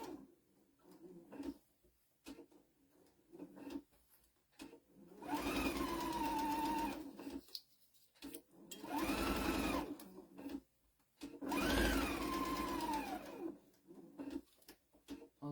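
A sewing machine stitches quilt binding in three sustained runs, each a loud whirring burst that rises and slows at its end, separated by quiet pauses with light handling sounds.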